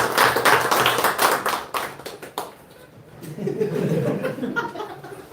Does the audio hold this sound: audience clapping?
yes